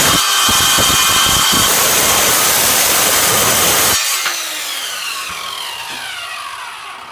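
An Evolution Fury 3 circular saw cuts through a 16mm steel rebar bar with a loud, continuous grinding rasp. The blade then spins down with a fading whine once the cut is through.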